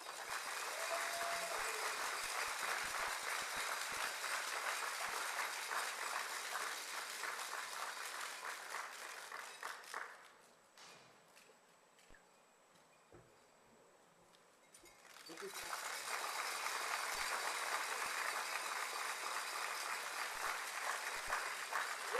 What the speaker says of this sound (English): How about another round of applause for everybody?